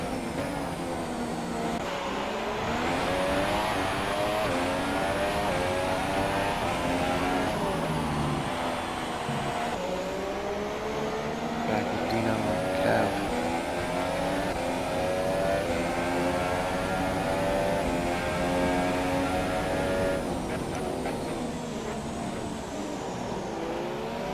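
F1 race cars in a racing video game at a Chinese circuit, a continuous high engine whine with rising and falling pitch as several cars accelerate and shift, loud and steady throughout with no talk.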